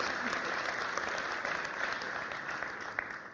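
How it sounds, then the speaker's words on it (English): Sustained applause from a conference audience at a social entrepreneurship event in Berlin, dense steady clapping filling the hall at moderate distance. "Give them a round of applause."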